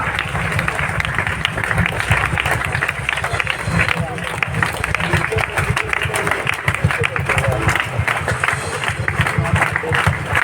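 Loud, continuous applause from an assembled crowd at a parish youth seminar honoring nuns, steady dense clapping for ten seconds with background chatter and voices mixed in.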